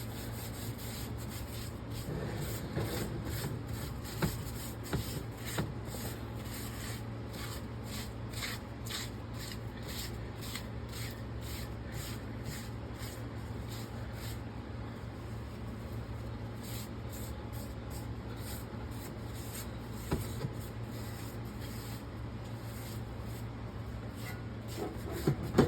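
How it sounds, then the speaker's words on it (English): A paper napkin rubs oil onto a cast iron grill pan in steady, repetitive scrubbing strokes, soft and close, with a faint constant hum behind and no talk. "I'm going to take my napkin and make sure that oil gets on all the"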